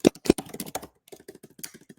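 Fingers tapping a computer keyboard in quick, uneven bursts of clicks, with a couple of louder keystrokes at the start, then a lighter, sparser run of taps.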